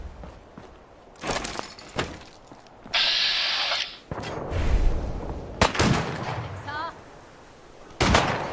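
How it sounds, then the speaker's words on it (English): Gunfire in Fallout 4 VR crashes out in loud, irregular blasts, mixed with crunching impacts and debris as shots hit nearby, with brief pauses between bursts. "where are the gunshots coming from?"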